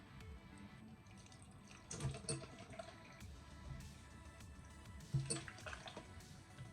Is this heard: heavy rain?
no